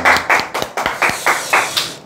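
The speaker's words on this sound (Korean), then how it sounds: "박수." Group applause in an office celebrating monthly sales results, with about eight distinct sharp claps in a steady rhythm, loud and close, and no talk over them.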